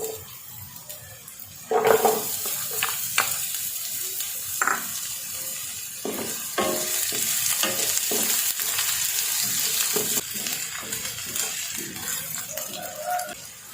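Onions sizzling and frying in a pan for a Filipino miswa shrimp dish, a continuous loud crackling hiss with several scraping stirs mixed in.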